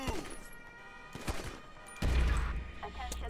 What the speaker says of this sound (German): Ich habe mal einen Schuss gehört.